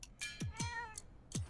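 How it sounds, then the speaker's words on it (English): A cat meows several times in a video game trailer, short sharp mews in quick succession, close and clear with little else around them. "Oh, it's a cat."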